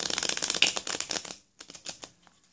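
Playing cards riffle shuffled in the hands: a dense, fluttering burst of rapid card clicks for about a second and a half, then a few softer separate flicks as the deck is bridged, close and with no talking.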